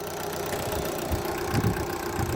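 A car engine idles steadily after switching over to LPG, following repair of the LPG regulator diaphragm; a continuous low rumble holds at an even level with faint knocking pulses.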